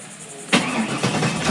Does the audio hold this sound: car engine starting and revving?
yes